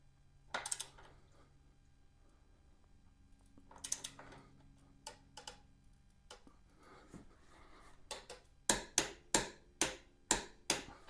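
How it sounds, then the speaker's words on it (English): A wrench tightens a bolt to 45 foot-pounds on a Venom Thunder bike, with scattered faint ratchet clicks early, then a quick, evenly spaced run of sharp, close clicks toward the end. "we're going to torque this down to 45 foot-pounds. I'm going to back it up on the other side with a wrench"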